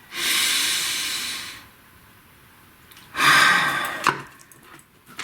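Two deep breaths close to the microphone, a long airy inhale then a pause and a shorter, sharper exhale with a faint click at the end, no talking.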